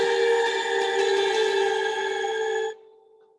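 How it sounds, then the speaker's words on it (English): A tonal guitar chord rings out through an Eventide H9 reverb pedal, a lush sustained wash that holds steady, then cuts off abruptly near the end, leaving a faint lingering tail. "Just listen to that reverb."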